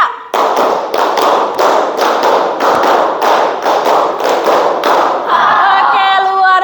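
Students in a classroom clap routine, a long run of loud, fast rhythmic group claps from many hands in steady pulses, ending with voices over the last moments.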